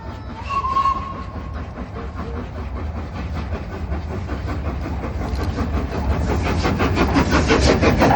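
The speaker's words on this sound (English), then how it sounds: "This is no less than the world's most famous locomotive, the 1923 A3 Flying Scotsman, which replaces the Class 67 on our train in Kettering Station" The 1923 A3 Flying Scotsman steam locomotive pulls a train at Kettering Station with steady rhythmic chuffing and a rolling rumble that grows louder and denser as it passes close by.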